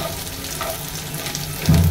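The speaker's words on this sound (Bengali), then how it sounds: "সবগুলো উপকরণ কিন্তু সুন্দরভাবে ভাজা হয়ে গেছে" Mustard seeds, cumin and peanuts frying together in a pan, giving a steady close sizzle with faint crackle that swells louder near the end, no talking.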